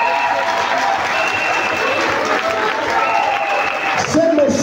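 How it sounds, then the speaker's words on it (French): An audience at a political declaration event in Gabon stands and applauds, dense sustained clapping filling the room, loud and continuous, with a voice talking over it. "je vous demande de vous lever et de les applaudir"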